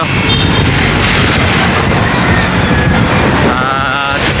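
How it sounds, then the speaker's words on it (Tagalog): Loud, steady roar of wind buffeting a microphone on a motorcycle ride in Jala-Jala, Rizal, a constant rushing noise that never lets up. "Tapos mahangin. Mahangin dito sa ngayon."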